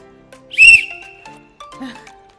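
A whistle blown to start a running race gives one loud, shrill blast of about half a second, followed by faint tonal sounds in a quiet room.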